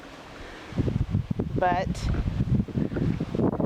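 Gusty wind buffets the microphone in an Oklahoma backyard, a low rumbling roar that swells and dips beneath someone talking close to the mic.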